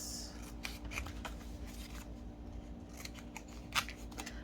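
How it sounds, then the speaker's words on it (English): Scissors snip the corners of paper for a tall, skinny mini scrapbook album, several quiet, separate cuts close by over a low steady hum. "Cut the corners."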